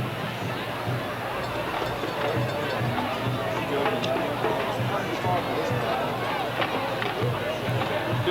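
Crowd at the 2003 Oak Ridge vs Riverdale state semifinal high school football game at Blankenship Field, a steady, distant wash of cheering and chatter from the stands with faint voices mixed in.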